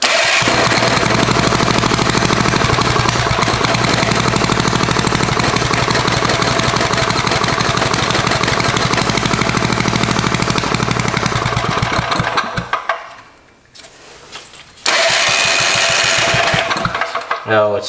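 Tecumseh four-stroke engine from a barn running: a steady, loud, rapid mechanical chug with constant rattle, close by, dipping and sputtering briefly near the end before catching again at full roar.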